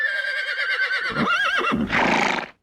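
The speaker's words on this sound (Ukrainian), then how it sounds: "Коні, як і будь-які тварини, вимовляють властиві тільки їм звуки і ржання, і пирхання." A horse whinnies with a long, wavering, high-pitched neigh, then gives a loud breathy snort, close and clear.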